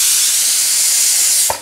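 A pressure cooker on a home kitchen stove lets out a loud, steady hiss of escaping steam from its whistle. The hiss runs nearly unbroken and stops abruptly at the end, with no talking.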